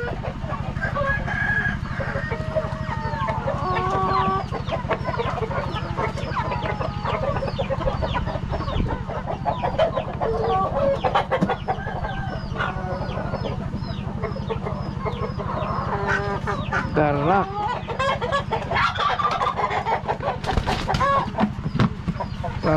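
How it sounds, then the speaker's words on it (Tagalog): Native chickens cluck and call continuously over a steady low hum, with a rooster crowing among the flock, close and fairly loud throughout, on a farm in Palawan. "pakain muna tayo ng ating mga lagang manok"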